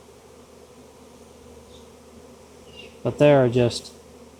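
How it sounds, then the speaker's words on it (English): Wild bee swarm at a farm barn: a faint steady background hum, then a louder burst of close buzzing under a short stretch of speech. "bees everywhere here on the farm"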